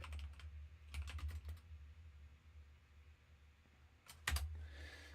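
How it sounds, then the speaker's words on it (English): Bursts of typing on a computer keyboard, quick clusters of key clicks separated by pauses, close and fairly quiet over a low steady hum. "when I was typing it out"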